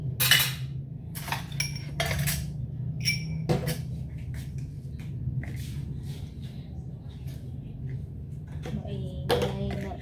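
Plates and cutlery clink and clatter in a kitchen sink during dishwashing, with scattered bright knocks and rattles over a steady low hum and running water, the clatter close and intermittent.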